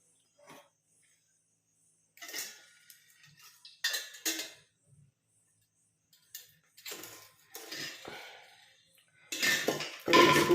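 Metal bowls and utensils clink and knock while a hot boiled liquid is strained into a bowl, scattered light taps and scrapes at close range with quiet gaps between them, no voices.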